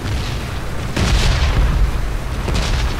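Explosions boom across a battleground in a duo battle game, a muffled blast followed by another heavy burst and rumbling debris, loud and fairly close.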